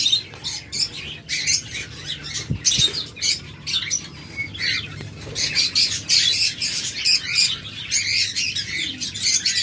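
Many caged birds offered for sale, including lovebirds, budgerigars, finches and cockatiels, chirp and squawk together in a dense, continuous chorus, with a couple of brief knocks partway through.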